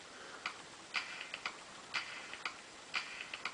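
A serviced device with a new laser switches on and ticks: faint, crisp clicks in an irregular rhythm, roughly a dozen light ticks over a few seconds, close by with quiet background.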